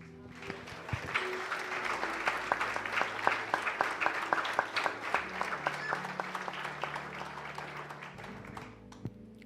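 A congregation at an evangelical church service applauds in praise to God, a steady crowd clapping with audible individual claps, lasting most of the stretch at moderate volume before tapering off near the end, with a low hum underneath.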